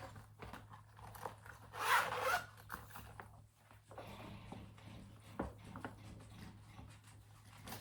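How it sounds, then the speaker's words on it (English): Zipper on a bag with a popper fastening, drawn in one quick close pull lasting under a second, then quiet handling rustle and a low steady hum. "it's got a popper and then a zip"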